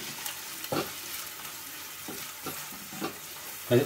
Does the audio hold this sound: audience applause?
no